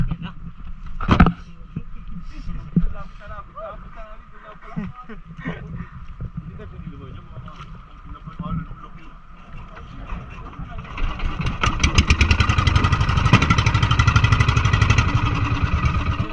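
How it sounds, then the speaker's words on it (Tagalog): A few scattered thumps and a short speaking voice, then a fishing boat engine catches and runs loud and steady, roaring through the final seconds. "bubuksan na po natin yung ating makina."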